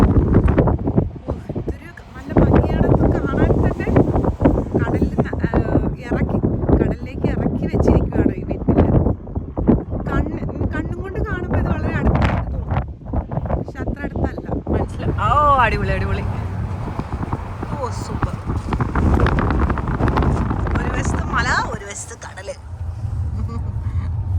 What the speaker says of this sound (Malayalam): കാറ്റ് നല്ല കാറ്റുണ്ട്